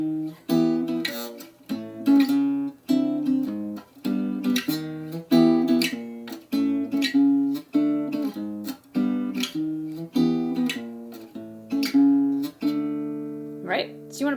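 Jazz guitar playing a walking bass line with chords in a brushes-style rhythm, clear and close, steady plucked notes and strummed chord hits, solo instrument with no talking.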